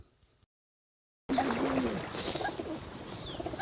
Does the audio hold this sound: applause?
no